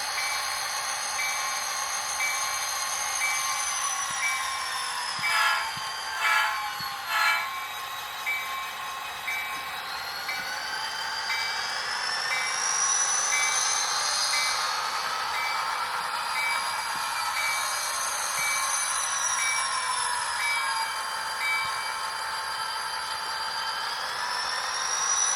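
Bachmann SD45 model diesel locomotive with onboard sound, engine notching up and down: a steady synthetic diesel drone with shifting pitch, high whine and a few clanking knocks early on, fairly faint and continuous.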